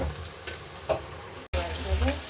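Sliced onions fry in hot oil until nearly red-brown for beresta: a soft, continuous sizzle with a few light stirring scrapes, briefly cut off near the midpoint before resuming slightly louder.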